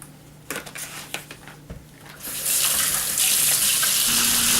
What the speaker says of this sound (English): I'm getting sprayed with water here